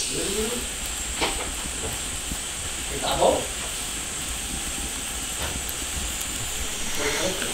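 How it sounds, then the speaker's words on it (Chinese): Steady hissing steam rises from vegetables boiling in an iron wok alongside native chicken broth, a constant bubbling wash with faint voices and a few brief clinks over it. "就这样把蔬菜先煮熟"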